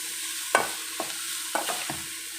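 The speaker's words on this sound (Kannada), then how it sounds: "ನೋಡಿ ಇವಾಗ ಫ್ರೈ ಆಗ್ತಾಯಿದೆಯಲ್ವಾ ನೋಡಿ ಈ ಥರ ಫ್ರೈ ಆಗೋವಾಗ ನೋಡಿ" Brinjal frying in oil is stirred, giving a low sizzle broken by four sharp scrapes of a spoon against the pan at a steady pace.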